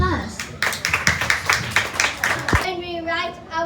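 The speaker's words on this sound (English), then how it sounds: "Please give them a big round of applause." An audience claps steadily for young student performers at a poetry celebration workshop, a couple of seconds of rhythmic clapping before a voice begins speaking.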